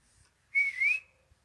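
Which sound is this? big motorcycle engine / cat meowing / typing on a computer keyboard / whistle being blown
whistle being blown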